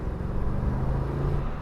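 Car engine with a rev-to-7,200 RPM limit revving after a two-gear downshift, a steady close low rumble rising slightly in pitch, heard alone.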